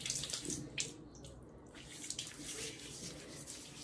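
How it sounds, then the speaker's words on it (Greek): Lukewarm water scooped from a soap bowl and splashed onto the face during shaving prep, heard as close, steady watery sloshing and trickling with a few brighter splashes. "έχω ρίξει λίγο νεράκι χλιαρό, το ρίχνω στο πρόσωπο"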